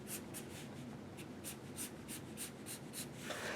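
A pen draws hair strokes on paper, a close, steady series of short scratchy strokes repeating in an even rhythm, quiet and without talk.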